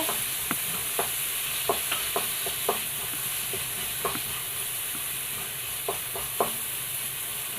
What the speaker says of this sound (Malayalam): കട്ട് ചെയ്ത് വെച്ചാണ് ഒന്ന് നന്നായിട്ടൊന്ന് വഴണ്ട് വരട്ടെ